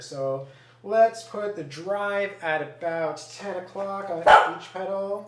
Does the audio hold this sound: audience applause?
no